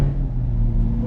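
An imported Chevrolet Corvette C8's engine drones steadily just after starting, a deep, loud, close rumble that holds without breaks.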